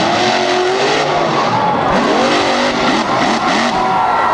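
A big Michigan fire truck show truck, fitted with flashing lights and ladders, roars loudly at close range at a Hagerstown event, its engine revving hard amid tire squeal and skidding for a few seconds.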